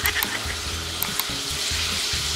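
Tofu frying in a pan for palabok, a loud close sizzle and crackle of hot oil, continuous with brief sharper pops, heard on its own.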